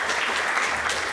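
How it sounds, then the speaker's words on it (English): A short, dense burst of applause from a conference audience welcoming a speaker, steady and unbroken with no talking. "round of applause."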